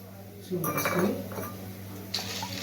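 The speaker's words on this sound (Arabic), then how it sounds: "هبدا انزل بالحمص بتاعي اهو" Chickpeas tipped into a pot of salted water for Egyptian koshari give a short clattering, clinking burst of pot-and-contents noise, followed by a second brief clink near the end against a steady low kitchen hum.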